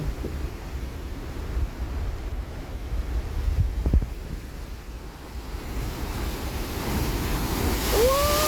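Strong sea waves churn at the Kizhur estuary in Kasaragod during heavy rain and flooding, a steady, broad roar of surf mixed with wind buffeting the microphone, with no voices.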